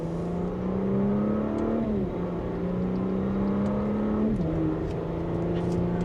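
A 2025 Audi SQ5 in dynamic mode pulls hard in second gear, its engine droning steadily upward with two quick dips as the paddle-shifted gearbox changes, heard from inside the cabin.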